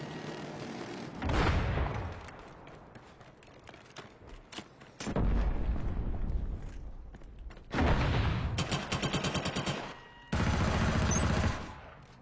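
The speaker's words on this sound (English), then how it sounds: "What are you shooting at?" Bursts of automatic gunfire in online multiplayer Killzone Shadow Fall, with an M55 Rumbler among the weapons: four loud sustained volleys separated by quieter gaps.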